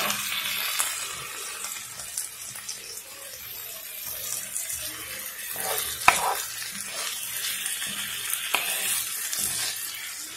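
Eggs with loroco and tomato cooking in a pan, a splash of water hitting the hot surface and sizzling softly while stirring scrapes along, close and steady with a sharper clack near the middle.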